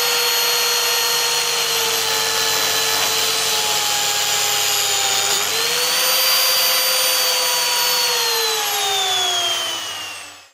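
Lamello joinery machine cutting into the end of a wooden panel, a loud, continuous high whine that dips and shifts in pitch midway through the cut, then fades at the end.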